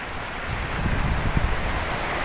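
Strong wind roars during heavy rain, heard from shelter under a roof at stalls by the Riacho Ferrão stream: a dense, steady rushing noise with low gusting buffets on the microphone, loud and continuous, with no speech.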